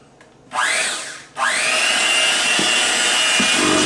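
An electric mixer starts up in a bowl of banana pumpkin chocolate chip muffin batter, cuts out briefly, then restarts and runs at low speed with a loud, steady high whine up close and no talking.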